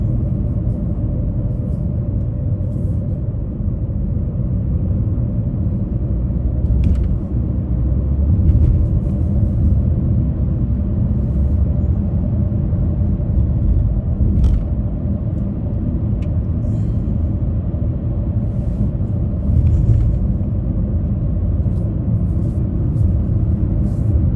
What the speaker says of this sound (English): Car up there moved right along, doesn't it?